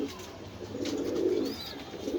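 Pigeons coo softly with low, rolling murmurs that swell and fade, with a faint higher chirp partway through, in a quiet setting at a Mirpur pigeon sale.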